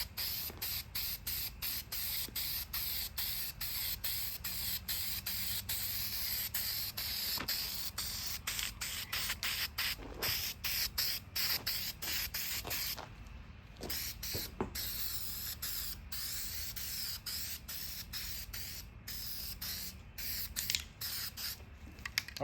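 Aerosol can spraying black paint onto parts of a Spy Hunter arcade cabinet outdoors, a long run of short hissing bursts in a quick, uneven rhythm, close and steady with brief pauses between sprays.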